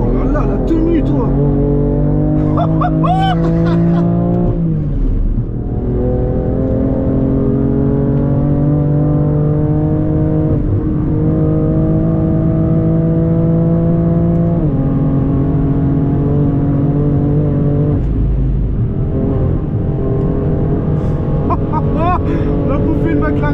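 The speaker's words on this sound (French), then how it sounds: "La bouffée de McLaren, bordel!" A McLaren sports car engine at the Nürburgring, loud and close, revving with sustained rising and falling pitch sweeps, while voices talk over it.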